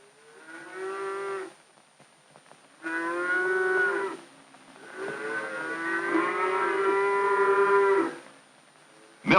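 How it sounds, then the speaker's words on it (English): Dairy cows moo in several long, drawn-out calls near a milking barn, three loud harmonic bellows separated by brief quiet gaps, with no talking over them. "The milkers bring the cows in from the different corrals to the milking barns."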